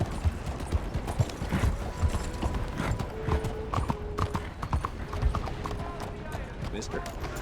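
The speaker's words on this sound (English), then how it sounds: "That's a hell of a horse you got there." Horse hooves clip-clop in a steady walking rhythm in Red Dead Redemption 2, close and clear, with voices talking over the hoofbeats and a brief whinny.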